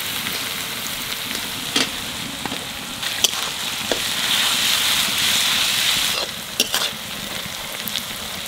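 Onion and green chili fry in hot oil with whole spices, a dense, close sizzle that swells in the middle, broken by several clinks and scrapes of stirring, with no talking.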